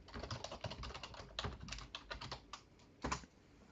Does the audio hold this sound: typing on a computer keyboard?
yes